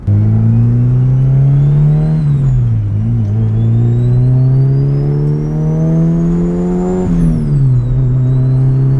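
A loud turbocharged Honda Civic hatchback engine, a 350 hp B16, drones and climbs in pitch as it accelerates on the street, with a high turbo whistle rising above it, briefly dipping at each gear change.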